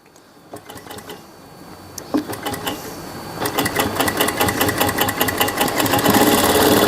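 A sewing machine stitches piping onto a Punjabi suit, starting with a few short bursts and then running in a fast, steady rattle that grows louder and continuous.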